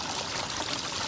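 Water pouring into a gold prospecting sluice with paydirt, a steady broadband rush and trickle, close and continuous with no talking.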